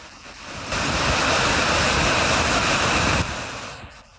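Flood water rushes downhill after torrential desert rains in Libya, carrying sand and small rocks. A loud, broad roar swells in, holds steady for a few seconds, then drops back.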